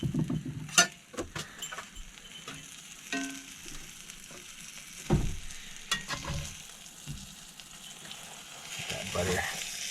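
Bread frying in butter in a pan for a patty melt with garlic, a steady crackling sizzle with scattered louder pops and scraping, close by, and a voice talking over it at times.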